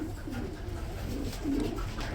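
Pigeons of the Shaking Rajgolla and Lahori breeds coo in low, throaty rolling bursts, close and fairly loud against a dense background rumble, with no speech.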